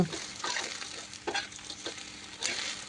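Shrimp sizzle on a bed of salt in a covered pot, a soft, steady frying crackle with a few brief scraping stirs, close but quiet, no voices.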